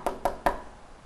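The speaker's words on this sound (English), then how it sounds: "Knocked on the door." Knocking on a house door: three sharp raps in quick succession, close and distinct, followed by quiet.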